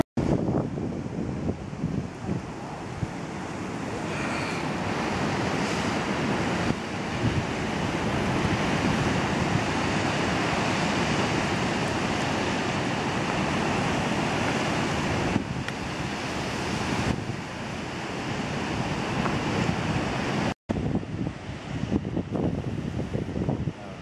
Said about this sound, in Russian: Океан справа.